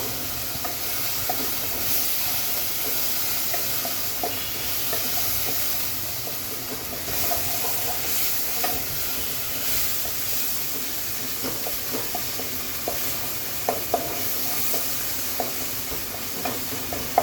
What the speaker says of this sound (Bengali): এটা আমি এক থেকে দেড় মিনিট পর্যন্ত একটু ভেজে দিচ্ছি